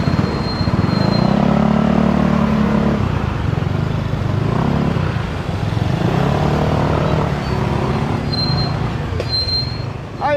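Motorcycles rev and pull away at a gathering of riders, a loud, continuous engine roar that rises and falls in pitch as they accelerate and drive off, close by and without speech.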